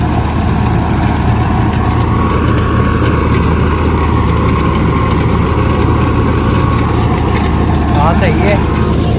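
Tractor engine running in a paddy field during rice planting rumbles loud and steady throughout, a continuous low drone with people talking nearby.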